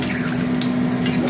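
Water poured into hot masala frying in oil in a pan, giving a steady broadband sizzle with stirring, close and continuous with no one talking.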